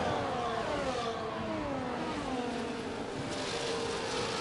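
Formula 1 race cars roar through a corner at Zandvoort in the F1 24 video game, a continuous high engine whine that sweeps down in pitch as the cars brake and shift, steady and fairly loud.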